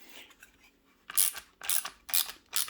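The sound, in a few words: ratchet loosening a bolt on a fix kit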